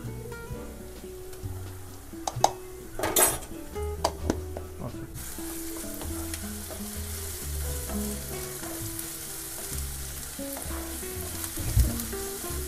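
Onions and tomatoes sizzle in hot oil with salt and ginger garlic paste for an egg curry, a steady close frying hiss with brief spoon scrapes and a louder burst near the start, faint talk beneath.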